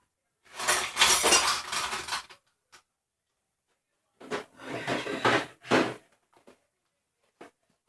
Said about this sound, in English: So now I am catching up on my dishes.